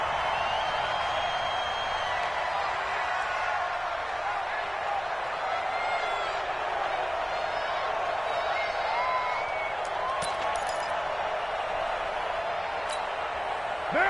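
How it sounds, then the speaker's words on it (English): A stadium crowd inside the Dome in a Madden football game makes a steady, distant roar that hums continuously throughout without letting up. "The crowd here in the Dome making things difficult."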